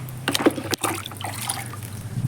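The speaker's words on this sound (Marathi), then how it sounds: "चला याला पाणी टाकते आता" A mug of water poured onto potted plants makes a short, soft trickle and splash lasting about two seconds, close by and fairly quiet, with no talking.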